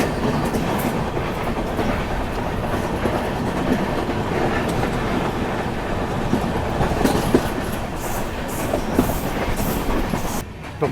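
A train running on the Konkan railway while crossing the Mandovi river near Goa: a loud, steady rumble heard from inside the train, with faint clickety-clack of wheels throughout.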